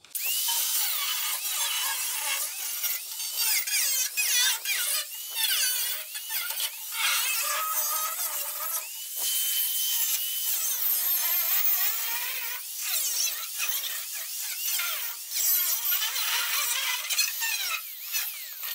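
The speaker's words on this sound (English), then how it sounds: "I'm going to come in from the underside, cut through, and start pulling out the rust affected material" A power saw cuts steadily through rusted floor-pan sheet metal on a 1980 Fiat Spider, a harsh, high, continuous grind with brief dips and restarts, loud and close with no talking.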